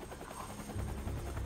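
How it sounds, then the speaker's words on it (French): A helicopter in the video game Quantum Break gives a steady whirring rotor chop with a deep, throbbing low drone that swells slightly, heard alone without talk. "Hélicoptère, pourquoi pas?"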